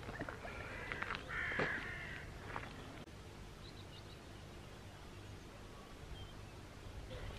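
A few harsh caws sound at mid-distance early on, then fade, leaving quiet outdoor countryside ambience with faint rustling, near Calstock, Cornwall.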